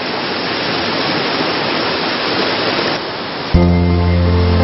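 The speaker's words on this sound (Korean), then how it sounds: "온갖 시름을 가라앉히고 흘러가는 물소리에 세상을 잊습니다" Water in a clear Korean stream rushes with a dense, loud, continuous noise close by. Near the end, a steady low hum comes in under the water.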